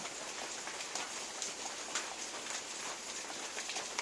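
Rain pours steadily with a constant hiss outdoors where an elephant plays in mud, occasional louder drops tapping and spattering nearby.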